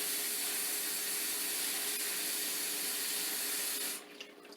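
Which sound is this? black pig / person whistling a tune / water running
water running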